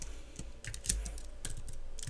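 Light, quick typing on a computer keyboard while writing HTML code, irregular soft key clicks close by and fairly quiet.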